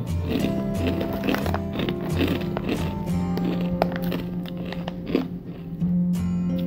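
Someone bites into crispy pork rinds (cracklings), loud close crunches and steady chewing filling the whole stretch, with a brief murmur of a voice.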